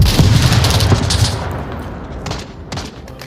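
Gunshots ring out in the VR shooter Onward, a loud burst of reports with echoing booms at the start that fade into scattered distant shots.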